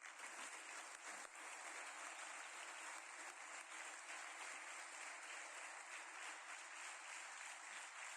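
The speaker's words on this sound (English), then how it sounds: "will you please join me in just applauding for them, please?" Audience applauding faculty members at a Cadet College Hassan Abdal event, a dense, steady wash of many hands clapping that holds at an even level throughout, with no speech over it.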